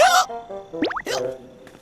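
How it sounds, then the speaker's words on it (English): A cartoon burp effect from an animated children's bus show: a short comic gulping, plopping sound with a quick rising and falling pitch, set between brief bursts of other effects, loud and close. "That was a burp."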